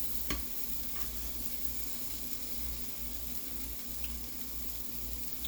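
Egg for a breakfast wrap cooks in a pan with a soft, steady sizzle and faint crackle, quiet and continuous with an occasional light tap.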